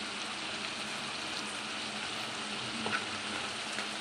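Minced mutton keema sizzling in a pan with turmeric and salt, a steady, close crackle and hiss of frying with a faint stir or clink now and then.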